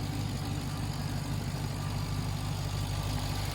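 A steady, low engine idle from a 2021 Ram TRX pickup's 702-horsepower V8 rumbles continuously, a deep even drone with no talking over it.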